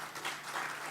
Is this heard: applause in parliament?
yes